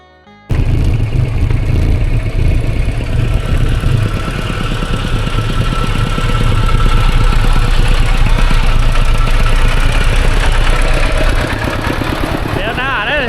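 A tractor engine chugs steadily at idle after starting abruptly, loud and close, its low rumble continuing without a break.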